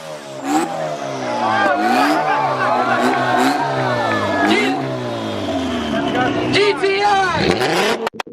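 Tuned Honda CRX engine revving hard at a tuner car show step competition, loud sustained rising and falling revs over about eight seconds with a crowd audible beneath.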